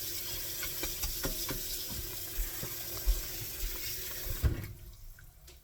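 Shrimp rinsed under running tap water in a sink, a continuous splashing flow with occasional thumps and knocks, ending abruptly as the water is shut off.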